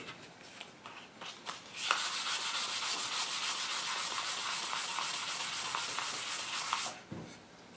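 Steady, rough hand sanding on an English walnut gunstock close by, a continuous scratchy rasp lasting several seconds after a few light scrapes, then stopping abruptly.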